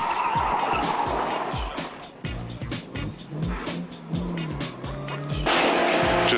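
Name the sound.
rally car driving on Targa Tasmania stage road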